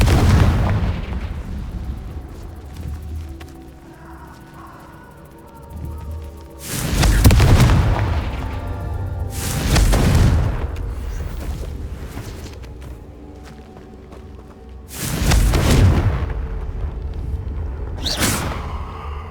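Confringo blasting spells fired in Hogwarts Legacy, four loud booming explosions bursting at intervals over a rumbling game soundscape, each blast broadband and heavy with a short decaying tail.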